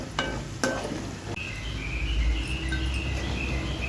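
Chicken frying in a pan: a soft, steady sizzle with a few sharp ticks and crackles, close but fairly quiet, while insects chirp faintly in the background.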